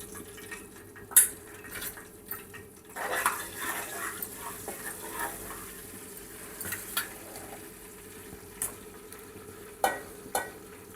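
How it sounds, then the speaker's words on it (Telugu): Tomatoes and a pinch of turmeric going into a pan for an easy tomato chutney, then stirred, with soft sizzling, scattered scraping and clinks of a spoon against the pan, fairly quiet and steady. "కొద్దిగా పసుపు వేసుకొని టమాటోస్ అయితే వేసుకుందాం."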